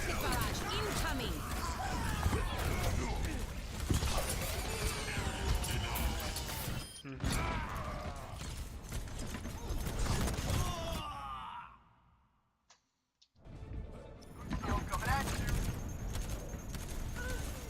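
Overwatch game battle with a dense rolling barrage of rocket explosions and crashing blasts, loud and continuous, briefly dropping to near silence before the chaos resumes.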